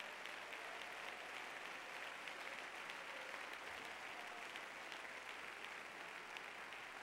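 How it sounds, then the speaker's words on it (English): Church congregation clapping hands during a sermon, a dense steady wash of applause that sounds faint and distant, continuing without a break and with no voices over it. "clap your hands to Jesus"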